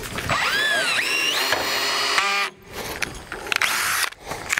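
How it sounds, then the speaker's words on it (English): Loud whirring and rattling bursts of an impact driver with a 9/16 socket driving bolts into a hunting blind, revving with a rising whine, pausing, then hammering again in short close-up runs. "So I just use a 9/16 socket on my impact."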